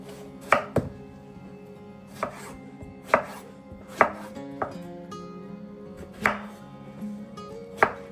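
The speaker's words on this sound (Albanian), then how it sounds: "Pasi kemi përfunduar me prerjen e patlıcanëve" A knife chops eggplants on a cutting board in a slow, uneven series of crisp, close thuds spaced about a second apart, with no voices.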